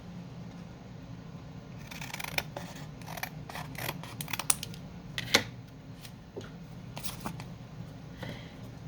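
Scissors snip through paper being trimmed for a junk journal pocket, a run of crisp, close cuts in quick irregular bursts over a quiet room.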